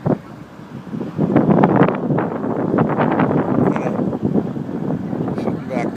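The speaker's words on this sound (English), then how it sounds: "A lot of wind coming in. And 70 mile an hour wind." Strong gusting wind of up to 70 mph during a severe thunderstorm roars and buffets the microphone up close, a dense continuous rush with someone talking over it.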